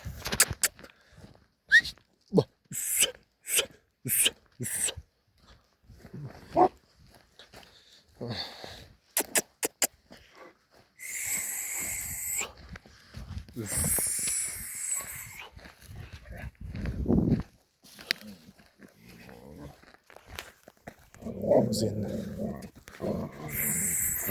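Puppies close by, with short growls, snorts and sniffing sounds in scattered bursts, broken by louder stretches of movement and handling noise.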